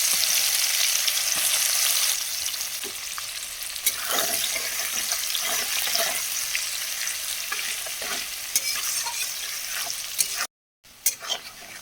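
Chopped onions, a split dried chilli and garam masala sizzling in hot oil, a loud crackling hiss with repeated spatula scrapes and clicks, a brief dropout near the end, no voices.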